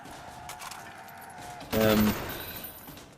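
Commando assault rifle firing in Black Ops Zombies on the Kino der Toten map, a short loud burst of rapid shots amid game noise, with someone talking around it.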